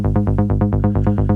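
A raw, unprocessed Serum synth patch for an original trance track plays a steady pulsing sequence of about ten short, evenly spaced harmonic-rich notes, loud and alone with no voices.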